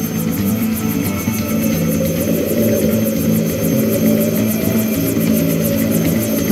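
A helicopter flies through a snowstorm in the Transformers Rescue Bots video game, a loud, steady rotor drone with a fast chopping pulse running throughout, heard alone.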